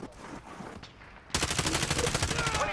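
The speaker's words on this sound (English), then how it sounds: "I think they engaged with another firefight" Rapid bursts of automatic gunfire in a Warzone video game firefight burst in loudly after a quieter stretch, a dense rattling volley that keeps going to the end.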